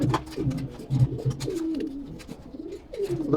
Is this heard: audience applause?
no